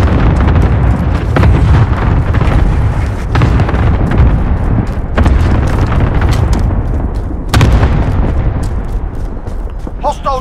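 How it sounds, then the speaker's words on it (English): Cluster strike explosions in Call of Duty: Modern Warfare, a dense, continuous roar of booming blasts that keeps going for several seconds, loud and near, with sharper bursts now and then. "Good copy. Cluster strike away."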